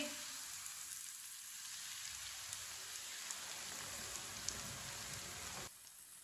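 Three eggs poured into a hot pan of oil and fried spices for an omelette give a soft, even crackling sizzle that holds steady, then drops suddenly near the end, with no voices.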